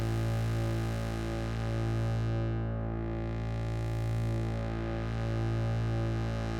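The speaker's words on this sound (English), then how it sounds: "each of the drone voices here has a filter" A sustained analog synthesizer drone from a Stylophone CPM DS-2 hums steadily, its tone slowly sweeping brighter and darker as a resonant filter opens and closes.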